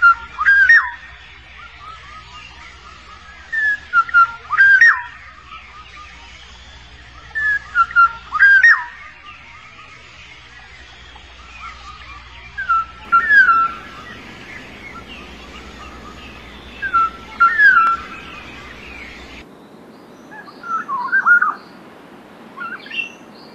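Black-naughted orioles, parent and fledgling chicks, call near the nest in a forest: repeated bursts of clear whistles and harsh chirps, moderately loud and close, separated by short pauses over a faint background hiss.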